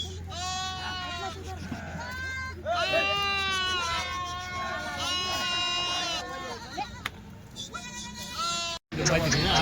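Rajasthani bucks bleat repeatedly at a livestock sale, several loud wavering calls close by, with people talking in the background.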